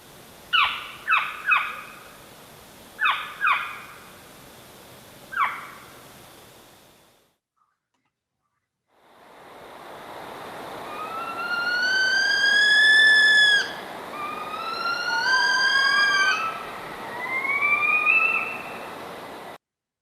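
Recorded owl vocalizations: a handful of short, sharp, clipped notes, then a pause, then several long, whining, cat-like wails that rise and fall, clear and fairly loud.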